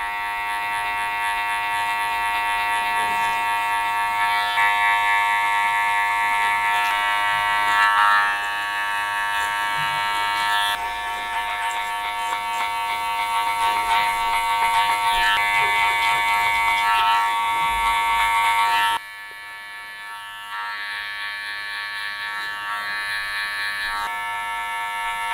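Electric hair clippers buzz steadily close up while cutting a mid fade, a continuous high whine that shifts in tone as they work, then briefly drops quieter near the end.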